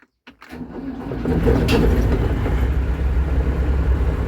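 A Claas Dominator 38s combine harvester's diesel engine cranks after a couple of brief clicks, then catches and builds into a loud, steady, close rumbling idle.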